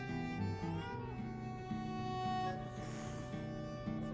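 A cat meows in the video game Lies of P, set against a steady layer of game music with sustained tones, the meow sitting fairly close but partly blended into the score.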